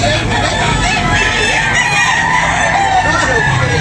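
White Hatch gamecocks at a poultry sale crow and cluck amid a busy, noisy crowd, with people talking steadily throughout.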